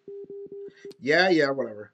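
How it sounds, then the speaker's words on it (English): A phone rings with about four short, evenly spaced electronic tone bursts, followed by a person speaking briefly. "That's my phone."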